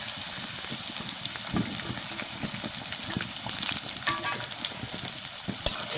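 Ginger, garlic and onion fry in oil with cumin and bay leaf, a steady sizzle broken by scraping stirs and occasional spatters, close and moderately loud.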